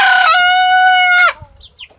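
A rooster crowing loudly and close in one long, strained call that breaks off abruptly, followed by faint clucks and chirps.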